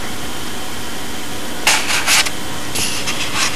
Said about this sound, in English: Now what I've been doing with the sanding tool, you can see how I have the edges clipped.